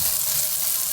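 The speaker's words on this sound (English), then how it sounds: "If you can hear it sizzling, you did everything right." Butter sizzling in a hot frying pan, a steady, close crackling hiss that holds evenly for the whole second with no voices over it.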